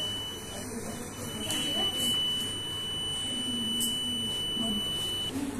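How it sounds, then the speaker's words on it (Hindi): A burglar alarm buzzer in a school physics practical circuit, set off by a hand blocking the light: a thin, steady electronic tone under a voice explaining the circuit. "जब मैं इसके अंदर हाथ रखूंगी तो देखिएगा फौरन से अलार्म ने सायरन देना शुरू कर दिया।"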